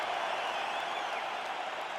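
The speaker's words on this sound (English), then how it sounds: "Stand and cheer, ladies and gentlemen." Wrestling crowd at a BCW Lightweight Championship match cheering and applauding after a full 25-minute finish, a steady, dense wash of clapping and cheers that holds level throughout.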